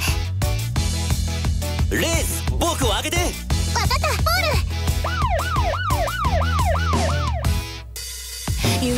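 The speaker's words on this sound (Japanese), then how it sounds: "パトカーのサイレン" Police car siren sung by a voice in a children's vehicle song, wailing up and down in repeated sweeping rises and falls over music, loud and close.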